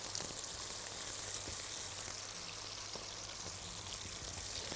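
Finely chopped onion softening in a hot pan for Alexandrian sausage, giving a steady, close hiss of gentle frying with faint crackles and no voices.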